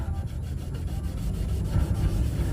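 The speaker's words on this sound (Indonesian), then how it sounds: "Kemudian tinggal kita gosok saja dengan menggunakan lap kering ini." A dry cloth is rubbed back and forth over a scratched surface in quick, rhythmic strokes, a close, steady scrubbing swish repeating throughout.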